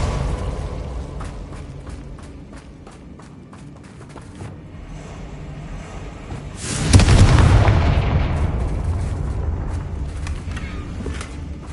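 A Confringo fire spell bursting in a Harry Potter video game, a heavy booming explosion that rumbles and fades slowly over a noisy game soundscape.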